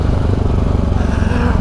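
A motorcycle engine runs steadily at night, its low, throbbing rumble loud and close throughout, with no clear rise or fall in revs.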